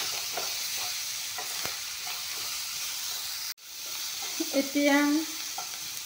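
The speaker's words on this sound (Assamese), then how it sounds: "বিলাহীখিনি অলপমান ভাজি ল'ম।" Chopped tomatoes frying in a pan of hot spiced oil, a steady close sizzle with intermittent stirring scrapes, a brief dropout midway, and a short spoken word over the cooking.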